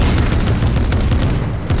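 Rapid gunfire rattles in a Fortnite match, a loud, dense burst of repeated shots fired in quick succession for about two seconds, with no speech over it.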